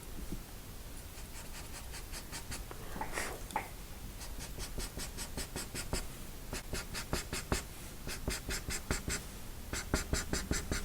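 Charcoal pencil scratches across white paper in quick, steady rhythmic strokes, close and dry, with brief pauses between runs of hatching.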